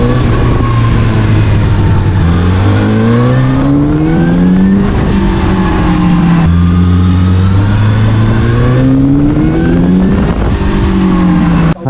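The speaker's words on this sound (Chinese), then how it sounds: "我们现在安静一下，来听听 500R 的声浪吧" A Zhang Xue 500R motorcycle's engine and exhaust roar up and down through repeated rev climbs and gear changes, loud and close on the move, with no talking.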